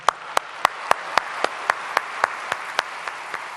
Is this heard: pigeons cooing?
no